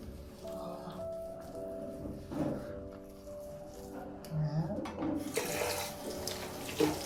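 Water from a tap runs into a sink to wet a washcloth, a close, steady splashing flow that surges and shifts as the cloth moves under it.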